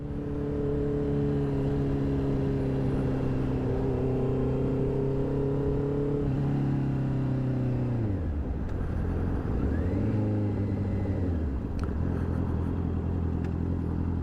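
Honda CB650R motorcycle riding through Edmonton, engine note rising and falling through gear changes with steady wind rush, loud and close throughout, easing down then building again near the end.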